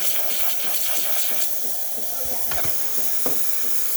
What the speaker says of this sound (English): nice steady steam coming out of the machine